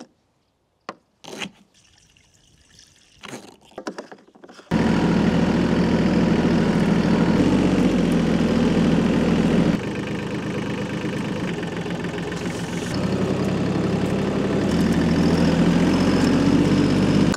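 Tractor engine idling steadily on a farm, a loud continuous mid-pitched chug that starts abruptly after a few seconds of quiet rustling and small knocks, with slight shifts in its tone.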